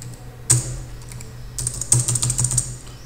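Keys tapped on a computer keyboard while a root password is entered in a terminal during a CentOS 7 Squid proxy setup: two short bursts of quick, fairly close clicks over a low steady hum, with no voices.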